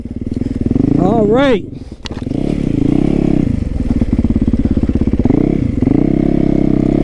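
Supermoto motorcycle engine running loud and close throughout, with a rising rev burst early on and steady throttle roar after, while someone talks over it.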